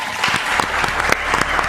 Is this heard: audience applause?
yes